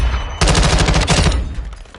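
Rapid automatic fire from a light machine gun in Modern Warfare 2, a dense loud burst of shots lasting about a second before tailing off, close and with no voices.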